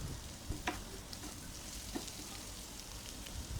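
Chopped onion sautéing in a pan for broad beans fry, a soft steady sizzle with a few sharp clicks of a spoon against the pan, close and without talk.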